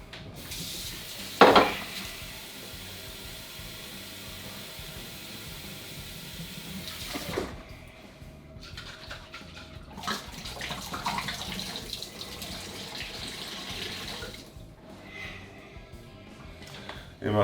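Water splashes and pours as a bottle holding spiced pumpkin syrup pulp is rinsed out, with running and sloshing in bursts, a sharp knock early on, and a voice talking between the water sounds.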